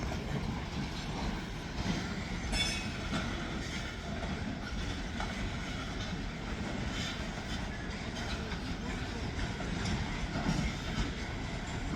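A short freight train rumbles steadily past at close range, a continuous heavy roll of wheels and cars with faint clacking and no pause over twelve seconds.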